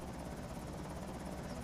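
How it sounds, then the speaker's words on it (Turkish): Helicopter approaching in the video game Project Zomboid, a steady, low rotor drone throbbing continuously at moderate distance. "Şu helikopter geliyor."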